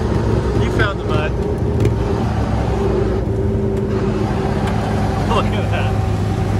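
A 2020 Land Rover Defender 4x4 grinds up a steep, muddy slope, its engine droning steadily and close throughout, with voices talking over the motor.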